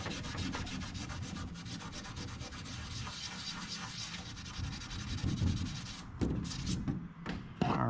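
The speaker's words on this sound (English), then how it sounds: "And I got a little Scotch-Brite. We can kind of sand the rest of it down." Steady scrubbing of a Scotch-Brite pad sanding down a part during restoration of a 1986 Kenworth W900B truck, a continuous close rubbing rasp that runs throughout with a few louder strokes near the end.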